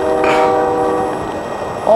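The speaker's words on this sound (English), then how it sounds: "the damn train comes. And that guy blows the horn way more than the law." A passing train sounds its horn loudly and close by. The sustained, harmonic blast holds, then tapers off over the low rumble of the rail cars.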